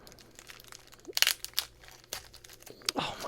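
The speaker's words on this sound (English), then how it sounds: "if I pull this packaging open, it'll probably," Plastic packaging is pulled open, giving a short burst of close crinkling and tearing that comes in uneven bursts, loudest near the middle and end.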